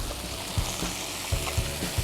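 Bacon and onions frying together in a pan, giving a loud, steady close sizzle with occasional soft stirring knocks and no talk.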